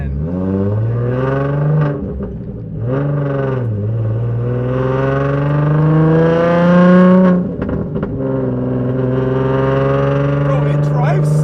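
A Nissan 350Z fitted with a Tomei exhaust and test pipes revs loudly up close, its engine tone climbing and falling in several long sustained pulls with only brief dips between them.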